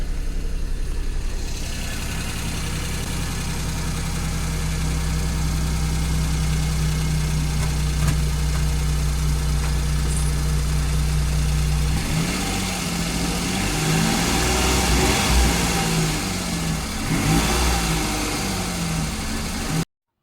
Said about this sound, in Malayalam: മിക്ക പഴയ വണ്ടികൾക്കും സൈലൻസിൽ നിന്ന് കേൾക്കുന്ന കിലീല എന്നുള്ള സൗണ്ട്